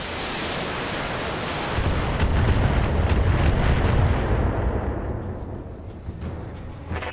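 Autocannon fire and explosions in the BattleTech video game: a dense, roaring barrage that swells into a heavy booming rumble midway, then slowly eases off, with no voices.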